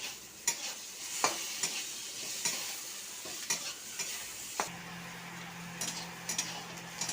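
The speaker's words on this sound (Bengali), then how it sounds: "আলু ভাজাতে নুন দিয়ে দিলাম, হলুদ দিয়ে দিলাম, দিয়ে ভালো করে নাড়বো।" Potatoes fry with salt and turmeric in a pan under a soft, steady sizzle, while a spatula stirs and scrapes them in sharp, irregular clacks, close and fairly quiet.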